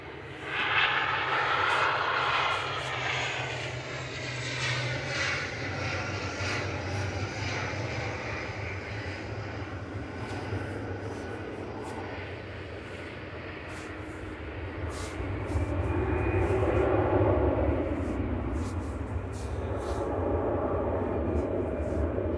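Airliner taxiing at Manchester Airport after landing, a steady jet engine rumble and whine from a distance, fading slightly then swelling again near the end, with a voice talking over it at times.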